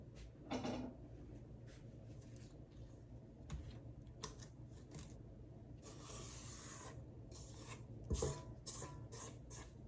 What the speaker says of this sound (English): I'm going to scrape down the side of the bowl.